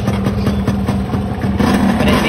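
A motorcycle in very good condition, fitted with chromed KMX controls and bases, idles with a loud, steady, low rumble that keeps up without a break.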